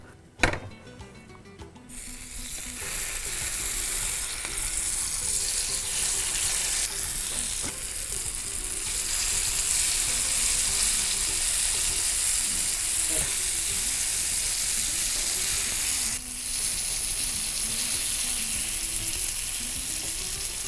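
Pieces of elephant foot yam frying in oil in a pan over high heat, a loud continuous sizzle lasting the whole stretch after a brief quieter start, with occasional stirring scrapes and no talk.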